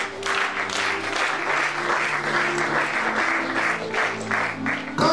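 A church congregation breaks into steady clapping during a French-language Bible teaching on Genesis, a dense, sustained round of applause from many hands lasting several seconds.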